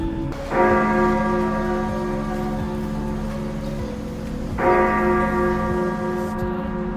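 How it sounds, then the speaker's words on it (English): Two loud bell strikes ring out from a Gothic Catholic church in Beijing, built in 1900 with three bell towers and green brick walls, each stroke blooming into a long shimmering hum that slowly fades. "This church was built in 1900 by French missionary Gaspar. It has 3 bell towers"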